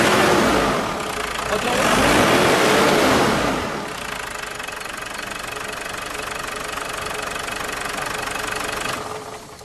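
A car engine, tested with a voltmeter and oscilloscope, revs up hard twice at the start, then settles into a loud steady idle; a brief voice speaks over it.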